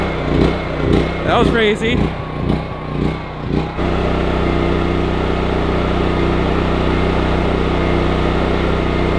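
A backup generator engine is started, then settles into a steady, loud idle drone that continues to the end, after a person speaks briefly over the starting moments.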